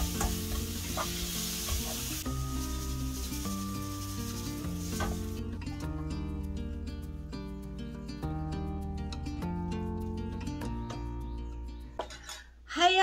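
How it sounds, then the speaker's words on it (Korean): Wild eclipta greens with green onion, garlic and salt stir-fry in perilla oil, a soft steady sizzle and scraping under louder background music. "나물 볶음에 또 들기름이 들어가줘야죠"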